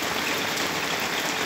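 Steady rain pours down during the rice harvest in a highland village, a dense even hiss of drops on surfaces filling the whole stretch with no voices.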